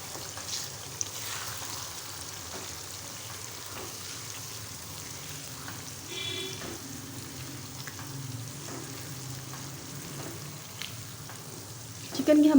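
Chicken with yogurt frying in a pan, a steady moderate sizzle with occasional stirring scrapes throughout.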